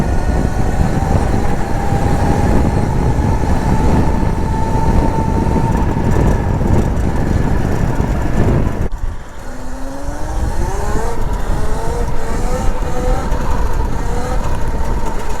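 A mini moto motorbike ridden through the woods: its small engine drones steadily up close, dips briefly, then revs again with a climbing, wavering pitch. No one speaks.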